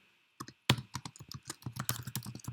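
Rapid clicking on a computer keyboard as commands are entered, a brief pause then a steady quick run of keystrokes, close and fairly quiet with no speech.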